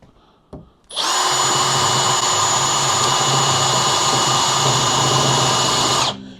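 After a brief click, a RIDGID Gen5X cordless drill spins up in speed setting 1 and runs at a steady high-pitched whine for about five seconds, loud and close, then stops abruptly.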